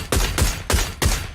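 Rapid rifle fire from an SLR with a suppressor in PUBG, four sharp, evenly spaced shots in quick succession, loud and close with no talking.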